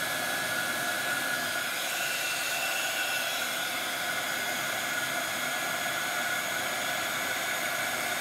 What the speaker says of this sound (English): So again, we have just heat embossed that on both sides.